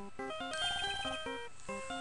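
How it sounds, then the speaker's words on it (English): A Phoenix Wright: Ace Attorney ringtone plays as a quiet, bright electronic melody of quick repeating notes for about two seconds. "Why does everyone have that damn ringtone?"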